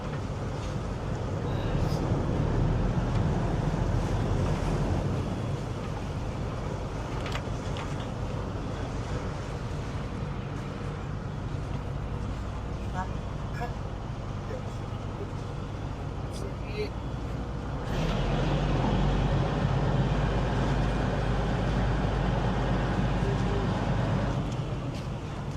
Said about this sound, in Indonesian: Anginnya kuat ini.